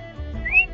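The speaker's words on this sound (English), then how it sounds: "We can whistle as well." A person whistles a short, close rising note under a second long, ending on a bright high pitch, with no talking.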